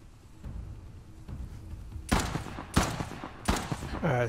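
Three sharp bursts of gunfire ring out in Uncharted: The Lost Legacy, spaced roughly evenly and standing loud above a murky low background rumble.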